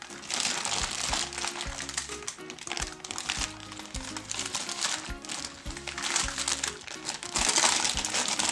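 Baking paper crinkles and rustles as a Swiss roll cake is rolled up, a close, continuous crackle of irregular crisp crunches with soft background music underneath.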